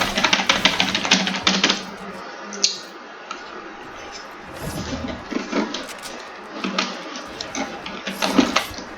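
A computer keyboard clacks in quick, close bursts of keystrokes with pauses between them during a competitive build-fight gaming session.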